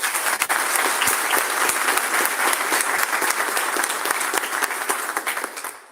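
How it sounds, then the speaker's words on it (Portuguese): An audience at a commemorative event bursts into sustained applause, a dense wash of many hands clapping that holds steady and then begins to fade near the end. "uma salva de palmas."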